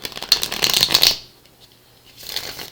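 Tarot cards riffle and shuffle rapidly up close for about a second, followed by a pause and a softer second burst of shuffling.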